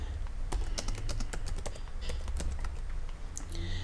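Rapid typing on a computer keyboard, a steady stream of close, crisp key clicks with uneven rhythm over a low background hum, no voices.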